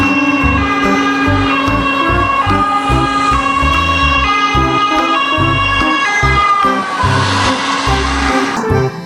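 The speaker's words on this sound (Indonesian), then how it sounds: "Wow, lihat di sini ada mobil ambulans." A toy ambulance's electronic siren wails continuously and loudly, its tone stepping up and down with a bright mechanical buzz beneath.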